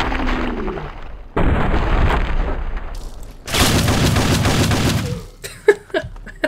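Shotgun blasts in the video game Fallout 3, heavy booming shots in bursts separated by brief gaps, loud and close, followed by a few sharp clicks and knocks.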